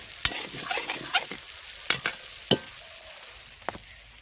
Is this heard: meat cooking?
yes